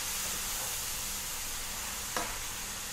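Potatoes and mushrooms fry in a pan with a loud, even, hissing sizzle that holds steady throughout, broken once by a brief sharp click near the end.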